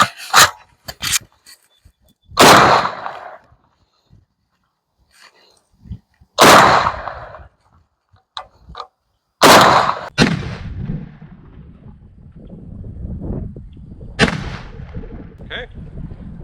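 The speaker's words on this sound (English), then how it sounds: "We're going to be shooting it today on a 12 gauge AK" Several loud, sharp shotgun blasts from a 12 gauge AK-pattern shotgun firing 2 3/4 inch Remington slugs, spaced a few seconds apart, each with a booming echo that trails off, with quieter handling noises between shots.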